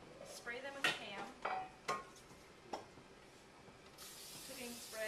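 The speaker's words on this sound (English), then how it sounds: "Cooking spray. You don't have to put that much on, just a little bit." Short hissing bursts of cooking spray into three 9-inch round cake pans, several quick puffs with clinks of metal pans in between, then a longer steady hiss at the end.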